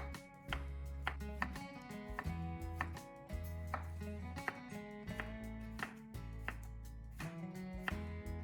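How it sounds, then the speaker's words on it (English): Fresh cucumbers being sliced thin on a board for a Greek yogurt cucumber salad, a rapid run of crisp knife chops in an even rhythm, close up over soft background music. "slice fresh cucumbers into thin slices or small bite-sized pieces"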